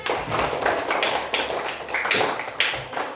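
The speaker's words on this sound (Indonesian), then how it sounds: "lalu daun fotosintesis. Tepuk tangan" Students in a classroom clap their hands in an uneven patter of taps, moderately close, with several sharper accented claps standing out from the rest.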